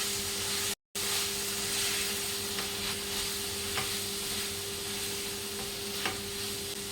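Masala and potatoes for aloo palak being stirred in a frying pan, a steady close sizzle with soft scraping and stirring sounds throughout.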